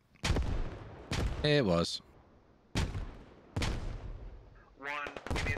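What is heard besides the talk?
gunshots in video game Squad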